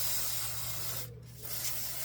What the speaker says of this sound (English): I'm just going to spray the threads with a bit of